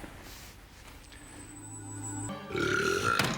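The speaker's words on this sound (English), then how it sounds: "I love that burp. Nice little burp at the end." A comic burp sound effect from a killer wheelie bin in a Doctor Who scene follows a thin high whine and dull rumbling, then comes as a short, gurgling belch near the end.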